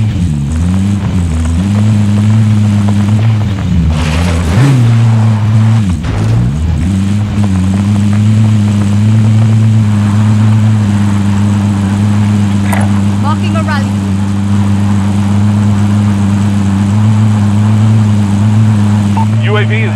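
Vehicle engine in the Call of Duty Warzone Pacific video game, a loud steady droning hum that shifts pitch briefly while a voice talks over it.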